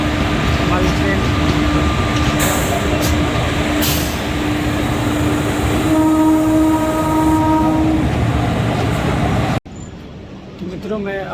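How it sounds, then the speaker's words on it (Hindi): A train rolls through the vast Mughalsarai junction railway yard, with a steady loud rumble, a long horn sounding, faint clickety-clack, then an abrupt cut to quieter surroundings near the end. "हमारी ट्रेन"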